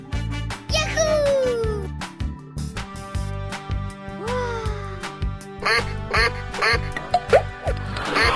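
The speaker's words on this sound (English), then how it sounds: "Duck." Cartoonish duck quacks from an animal-matching escape room game, repeated several times over a busy, bouncy music track with playful sound effects, close and bright.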